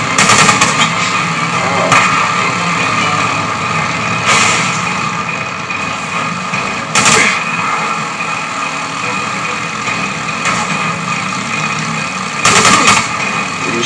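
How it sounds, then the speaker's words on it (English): Gunfire in the video game Days Gone: scattered shots crack over a steady engine-like rumble, with a few louder bursts standing out near the start, middle and end. "there's a dude fucking shooting me"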